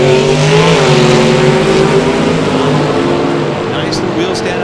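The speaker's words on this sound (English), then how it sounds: "nice little wheel stand out of Lockhart" An S10 pickup launches hard off the line at a drag strip during a bracket race, pulling the front wheels up in a wheel stand, engine roaring loud and close with a rising rev before it strains on, under an announcer's commentary.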